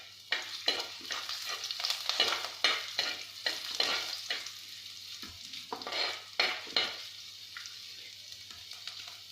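Ginger sizzles in hot oil with fenugreek for a Kerala-style spicy tuna curry with kudampuli, with steady frying crackle and repeated bursts of stirring and scraping through the pan, fairly close.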